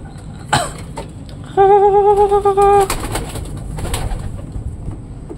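A pigeon being trained gives a single rolling coo, close and clear, amid scattered handling noises and a faint background hum.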